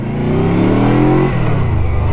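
A Yamaha touring motorcycle engine revs up steadily and loud, then its pitch drops off as the throttle eases, with no talking over it.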